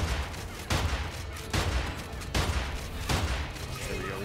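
Repeated heavy gunshots in the Immortal Redneck first-person shooter, four or five sharp booming blasts spaced under a second apart over a steady background, loud and close.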